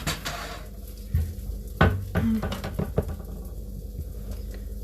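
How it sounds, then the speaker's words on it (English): Tofu stirred in a pan while making peanut satay lettuce cups: a spoon scrapes and clinks against the pan in a few distinct strokes, with a low background hum and no voices. "Give your tofu another quick stir up."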